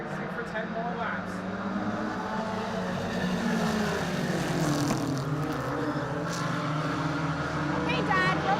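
Mini stock race cars roaring off the start of a first heat, a steady loud drone of engines building and sustaining throughout, with a commentator talking over the noise.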